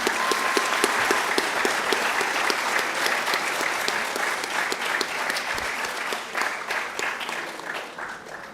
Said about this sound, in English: A round of applause again for the real ones.